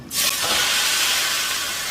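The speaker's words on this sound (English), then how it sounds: "There's a nice sizzle there." A loud burst of sizzling as lime-marinated chicken for fajitas hits a hot pan, settling into a steady, bright hiss that continues to the end.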